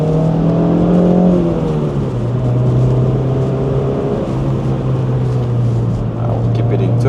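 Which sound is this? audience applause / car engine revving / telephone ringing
car engine revving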